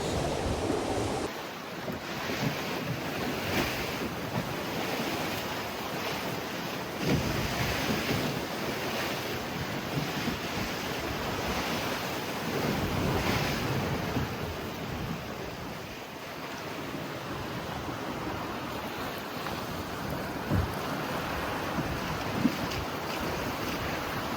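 Ocean waves surge and wash continuously around a sailboat crossing the English Channel toward Guernsey, with a constant roar of water and gusting wind buffeting the microphone.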